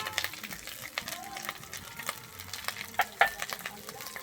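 Steady sizzle of coriander powder frying in a pan with brief clinks of a spoon stirring, at close range.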